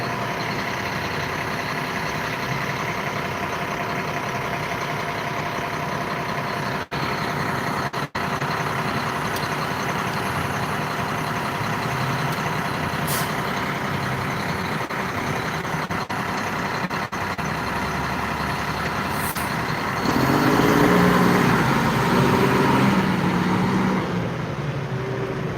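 A loaded concrete truck idles steadily near a busy southwest Detroit street amid traffic rumble, with a heavier engine surge and brake-like hiss toward the end.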